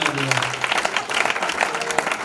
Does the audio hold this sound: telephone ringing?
no